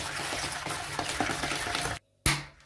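An egg being stirred into a sugar and chocolate brookie batter, with rapid wet scraping strokes in the bowl, a brief pause, then a sharp clink.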